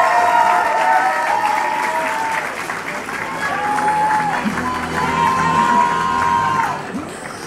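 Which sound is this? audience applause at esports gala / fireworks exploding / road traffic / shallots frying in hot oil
audience applause at esports gala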